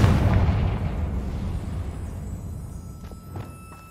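A Confringo fire spell explosion in a Harry Potter video game hits with a loud, heavy burst at the start, then rumbles and fades over several seconds, with a few faint pops and crackles near the end.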